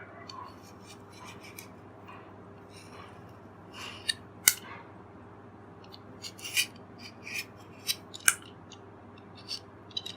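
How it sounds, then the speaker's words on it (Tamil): Hand peeler stripping the side skin off a mango in a home kitchen, faint scraping strokes and small clicks spaced irregularly over quiet room tone. "சைடு தோலை வந்து இந்த மாதிரி ஒரு பீலரை வச்சு நல்லா பீல் பண்ணிக்கலாம்."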